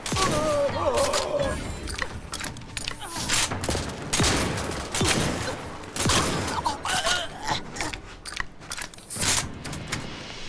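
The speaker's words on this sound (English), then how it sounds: "Shotgun from close distance into head works really well." Shotgun blasts in the video game The Outer Worlds 2 during close-range combat: dense, repeated loud shots mixed with clattering game effects, with some talk in between.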